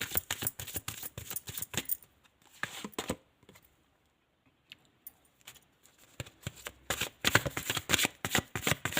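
Tarot cards being shuffled, handled and set down in quick flurries of crisp riffling and soft slaps, with a brief quiet pause in the middle; close and fairly faint.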